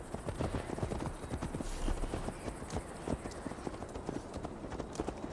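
Horse hooves clip-clop steadily at a riding pace in Assassin's Creed Valhalla, a continuous rhythmic patter of hoofbeats heard fairly close, with a faint voice in the background.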